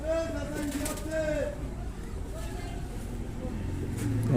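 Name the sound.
female pigeon cooing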